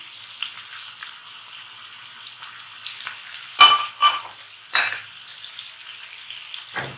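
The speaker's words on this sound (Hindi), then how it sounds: "अब हम इसमें इनको अच्छी तरह से फ्राई कर लेंगे।" Spices frying in a pan for Lebanese kebab, a hissing sizzle with several sharp bursts of crackling as they are stirred, no voices.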